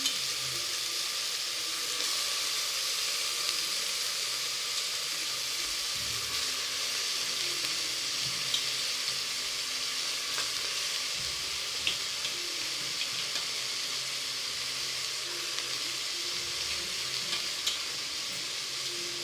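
Okra fries in a pan with tomato, giving a continuous, even sizzle that holds steady throughout at moderate loudness.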